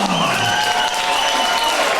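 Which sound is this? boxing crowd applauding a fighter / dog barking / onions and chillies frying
boxing crowd applauding a fighter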